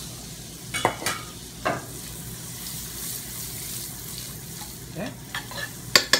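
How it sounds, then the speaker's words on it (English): Onions fry in melted butter and olive oil, a low steady sizzle under several sharp stirring scrapes and knocks against the pan, close by, with a brief spoken word. "So we need to stir fry the onions."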